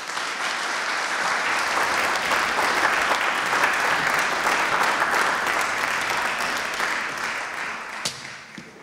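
A lecture audience welcoming Professor Daskalakis with sustained, loud applause from a full room, an even roar of clapping that holds for several seconds before tapering at the end.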